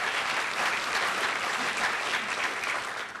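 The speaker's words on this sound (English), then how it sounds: "Let's give her a round of applause anyway" Steady applause from an audience at an annual association meeting, a continuous dense patter of clapping hands that holds even throughout and tails off slightly at the end.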